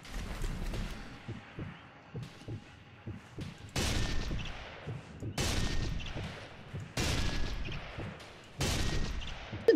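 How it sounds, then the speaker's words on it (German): Gunfire in the Sniper Elite 3 multiplayer game: several sharp, loud rifle shots ring out at irregular intervals, each with a ringing tail, between quieter stretches of softer thuds and footsteps. "oben kommen Schüsse"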